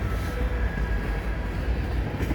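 A CN freight transfer train with back-to-back SD70M-2 locomotives rolls past nearby in Montreal on a cold afternoon, a continuous heavy rumble and roar of wheels and cars filling the whole stretch.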